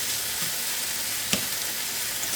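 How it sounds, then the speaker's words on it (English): Three slices of thick-cut smoky bacon sizzle steadily in a pan as the fat renders, a constant close frying hiss with a couple of brief louder pops and no talking. "render the fat from our bacon. That's 3 slices of thick cut smoky bacon."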